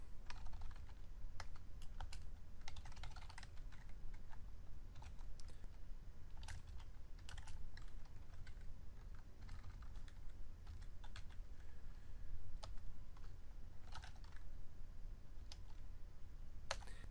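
Rapid typing of code on a computer keyboard, with irregular clusters of sharp, close key clicks running throughout without pause.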